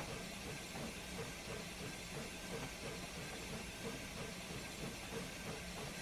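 A steam locomotive injector opened on a train simulator, giving a steady, even hiss of steam with faint rhythmic rail clatter underneath, no voices.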